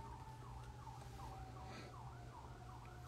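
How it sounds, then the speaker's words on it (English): Several emergency vehicle sirens wail in a town, likely responding to a structure fire, their rising and falling tones overlapping at a distance, steady and fairly faint without speech. "It's a lot of sirens."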